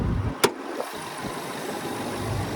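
Twin-turbo V8 of a 2022 Audi RS Q8 idling with a low steady rumble after a sharp thump, partly masked by gusty wind noise, no talking.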